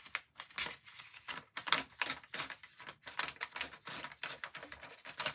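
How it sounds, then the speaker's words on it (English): Paper being torn by hand to make a ragged decal edge for a stamped card, a close series of rough ripping and crinkling bursts in uneven spurts, with no talk. "and then I'm just going to rip that up."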